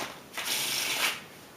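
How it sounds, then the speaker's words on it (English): A deck of playing cards is riffle-shuffled once, giving a quick close flutter of cards about a second long in a quiet room. "I'll give the deck a little bit of a shuffle like this"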